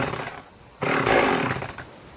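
A Husqvarna 50 Classic Swedish chainsaw sputters quietly, then catches with a sudden loud roar and keeps running at a steady, close, rough idle. No one speaks.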